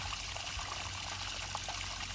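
Water trickling steadily from a fountain and small waterfall at a fish pond, a continuous gentle splashing and babbling close by, even in level, with no talk.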